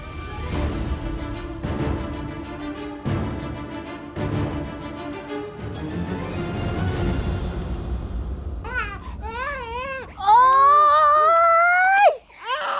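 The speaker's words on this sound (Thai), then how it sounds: "เด็กร้องไห้ไม่หยุดเลย ทำไงดีวะเนี่ย" After a stretch of background music, an infant breaks into loud, wavering wails that rise and fall over the final few seconds, close by.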